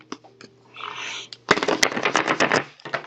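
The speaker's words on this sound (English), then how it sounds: "Let's see if I can shuffle." Oracle cards being shuffled by hand, with a few soft taps followed by a brisk, rapid burst of riffling card flutter, close and fairly loud, ending in light clicks.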